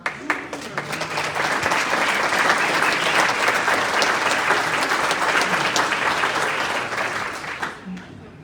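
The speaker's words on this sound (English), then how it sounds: "Hold your applause." An awards-night audience applauds as the radio host serving as MC comes on stage, dense clapping that swells quickly, holds steady for several seconds and then tapers off.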